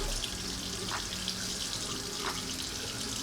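Tap water runs steadily into a sink during hair washing for semi freeform dreads, a continuous broadband hiss at close range with faint splashes over it and no voices.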